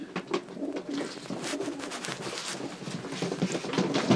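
A breeding pigeon of Meulemans, De Klak and Janssen lines cooing close by, repeated soft throaty coos over a light background patter.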